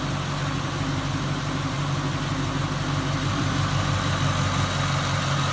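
A rebuilt Ford Mustang engine idles steadily and evenly, a low continuous rumble with a faint vibration and no hesitation or knocking, carrying on without a break.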